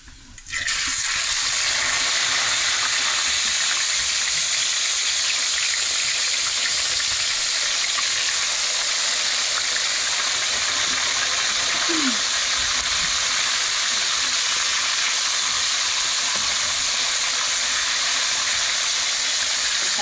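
Steady, loud sizzling and crackling of fish frying in hot oil, continuous throughout with a brief faint squeak partway through.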